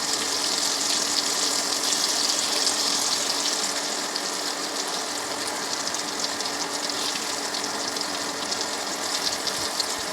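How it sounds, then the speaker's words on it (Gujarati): Green chillies frying in a pan for a Gujarati stuffed bitter gourd and potato curry, a steady, close hiss of hot oil that runs evenly for ten seconds without any speech. "મરચાંને થોડા પલટાવીશું એટલે બીજી બાજુ પણ તળાઈ જાય સારી રીતના"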